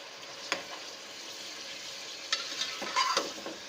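Chicken fries in oil in a pot while being stirred, giving a continuous soft sizzle broken by a few sharp scraping clinks of the spoon against the pan.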